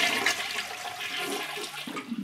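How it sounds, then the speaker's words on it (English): A household toilet in a bathroom with a grey water system flushes, a loud rushing gurgle of water that fills the whole couple of seconds. "flush the toilet like you would normally"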